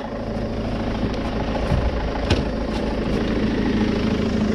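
A turbocharged Ulysse van engine idles steadily up close with a low, even rumble and faint rattles, no voices over it.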